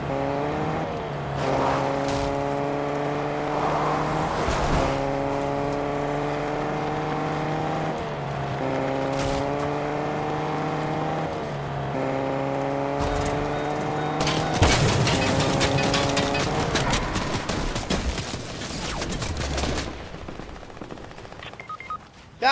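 A car engine drives in the video game Fortnite and revs through repeated rising gear shifts. Rapid bursts of gunfire break out later in the clip.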